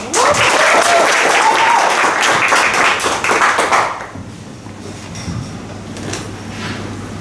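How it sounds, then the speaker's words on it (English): Loud audience applause at a performance talk fills the first four seconds, then cuts off abruptly, leaving a quiet room with faint low hum and scattered small noises. "An applause to Dieke."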